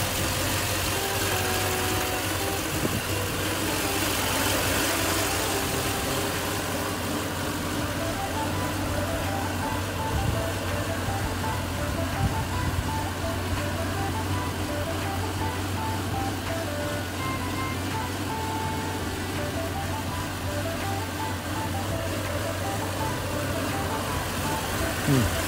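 A Toyota Land Cruiser 100's 4.7-litre V8 idles at a steady, even mid-pitched hum for the full stretch, with quiet speech now and then in the background.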